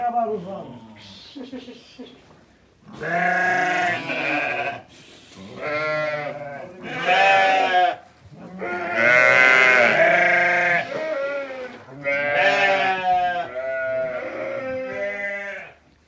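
Several sheep bleat loudly and repeatedly nearby, overlapping calls in a wavering chorus with short pauses between bursts.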